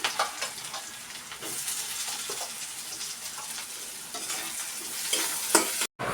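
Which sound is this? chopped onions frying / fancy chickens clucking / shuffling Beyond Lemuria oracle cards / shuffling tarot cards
chopped onions frying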